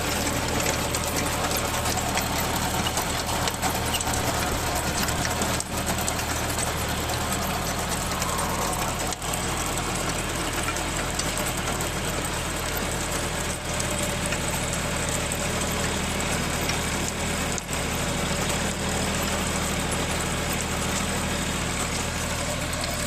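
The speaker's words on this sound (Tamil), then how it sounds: "இந்த மஞ்சள் நடவு பண்ணுற மிஷின் எப்படி ஒர்க் ஆகுது" A turmeric planting machine runs in a field, giving a continuous, steady mechanical engine drone with a faint rhythmic clatter, loud and unbroken throughout.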